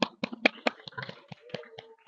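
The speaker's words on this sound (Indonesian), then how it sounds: "mari kita kasih tepuk tangan untuk teman kita di kelompok 4" A small classroom group claps for group 4 in a rhythmic run of distinct, close hand claps lasting about two seconds.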